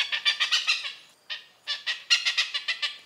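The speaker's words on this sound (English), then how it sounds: "And here are Oriental Park hornbills just like under." Oriental pied hornbills calling in Singapore, a rapid run of loud, harsh cackling notes, a short pause, then another burst of repeated squawks, close and without talk.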